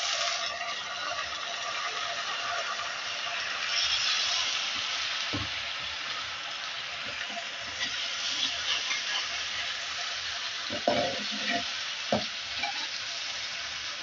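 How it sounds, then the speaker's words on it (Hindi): Onions near browned fry in a pan as chili, garlic and ginger paste goes in for paye, a dense steady sizzle with a few knocks and scrapes of stirring toward the end. "अब इसमें हम डालेंगे ये मिर्ची, लहसुन और अदरक का पेस्ट।"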